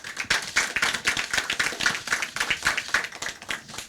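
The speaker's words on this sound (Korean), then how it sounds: "박수로 시작하겠습니다." A room full of people bursts into steady, dense applause to open an on-site Democratic Party of Korea supreme council meeting on household debt relief, sustained and even for several seconds with no talk over it.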